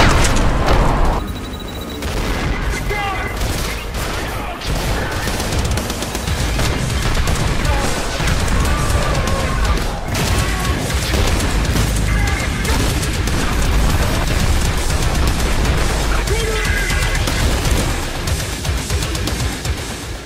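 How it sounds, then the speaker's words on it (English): Grenade launcher blasts and gunfire in the first-person shooter Trepang2, a dense, loud barrage of booms and crashes with layered game effects running continuously throughout. "my second favorite is the grenade launcher, and mostly because the visuals of the explosions is so incredibly satisfying"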